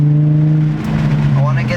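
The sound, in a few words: 2005 Infiniti G35 Coupe engine with muffler delete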